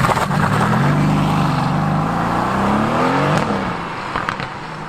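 A Mercedes-Benz AMG GTS Edition 1 engine revs hard, a loud close roar that sweeps up in pitch and then settles, with no talk over it.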